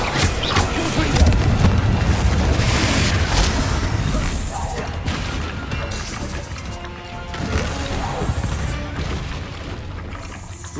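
Confringo blasting curse cast during combat in the Hogwarts Legacy video game: loud, repeated explosive crashes and booming impacts layered with clattering debris, dense at first and easing off in the middle before more blasts.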